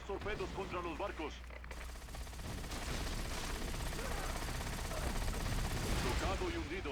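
Ship guns firing in a World of Warcraft battle, a dense rattle of rapid gunfire and blasts under background game sound, with voices talking over the opening seconds.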